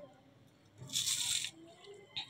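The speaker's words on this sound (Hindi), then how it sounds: "कितनी ज़्यादा कुरकुरी है और क्रिस्पी है वो मैं आपको यहाँ पर आवाज़ इसकी एक बार सुना देती हूँ" A crispy fried snack of bread and potato gives a close, sharp crunch when broken or bitten, one bright burst lasting about half a second, followed by a smaller crackle in a quiet room.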